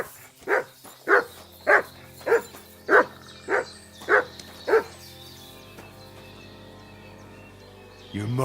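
A dog barks eight times in a steady rhythm in the video game Kingdom Come: Deliverance 2, sharp and close, followed by a low background hum.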